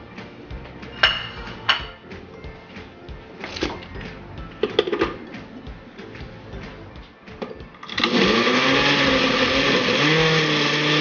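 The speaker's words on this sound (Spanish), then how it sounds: "lo licuamos por partes porque no cabe todo en la licuadora" A blender whirs, processing spices for Oaxacan barbacoa. Some clunks and handling noises come first, then the motor starts with a loud, steady roar that continues to the end.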